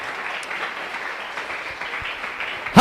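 A church congregation claps steadily and fills the room with sustained applause, ending in one sharp, louder burst.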